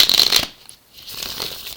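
A tarot card deck being shuffled by hand, a short crisp riffle at the start followed by quieter shuffling rustle, close and alone without talk.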